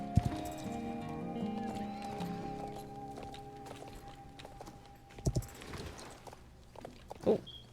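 Horse hooves clip-clop steadily in a video game while a horse is being trained, with a couple of short neighs or snorts near the end and a steady background game hum.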